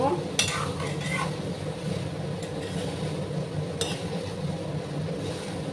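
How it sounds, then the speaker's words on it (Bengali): Raw papaya stirred in ghee in a pan, with a steady low sizzle and a few scraping clinks of a spatula against the pan near the start and again later. "এইভাবে কিছুক্ষণ আমি নাড়াচাড়া করে নেব।"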